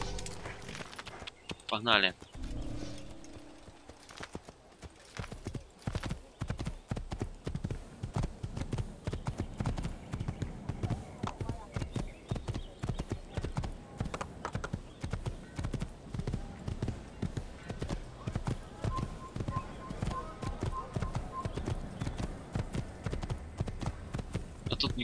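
Horse hooves clip-clop in Assassin's Creed, a fast steady run of galloping beats lasting nearly the whole stretch, with a voice speaking briefly near the start.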